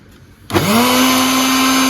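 A mixer grinder starts up abruptly and spins up to a loud, steady whine while grinding soaked masoor lentils, running on alone with no talk.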